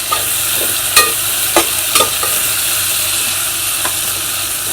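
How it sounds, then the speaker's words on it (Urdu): Onion, capsicum and green chilies frying in a pan, a steady loud sizzle with occasional scraping stirs, no voices. "ان ساری چیزوں کو ہم اچھی طرح سے تل لیں گے"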